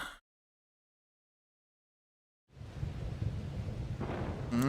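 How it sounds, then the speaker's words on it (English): Rain and rumbling storm noise from the Zelda Tears of the Kingdom video game trailer swells in after a stretch of silence, a steady dense wash that grows slightly louder toward the end. "That's rain."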